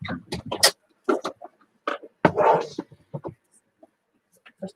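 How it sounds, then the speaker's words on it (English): Several dogs give short yips, whimpers and bark-like bursts in an irregular series of close, clear sounds separated by silent gaps. "I'm going to go let my dogs out to go use the bathroom"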